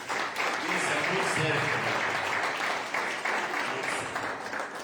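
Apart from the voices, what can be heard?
church congregation applause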